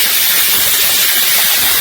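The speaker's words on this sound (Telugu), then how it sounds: "చూడండి విజిల్స్ ఎలా వస్తున్నాయో," A pressure cooker cooking mutton curry vents steam through its whistle as a loud, steady, unbroken hiss that fills the whole moment up close.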